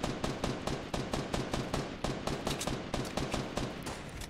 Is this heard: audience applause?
no